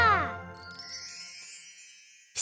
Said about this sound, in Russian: Колокольчик? Да.